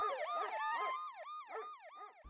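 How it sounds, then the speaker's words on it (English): Emergency vehicle siren wailing in a fast rising-and-falling pattern, repeated cycles that shift pitch partway through, moderately distant with a brief thump at the end. "or a siren."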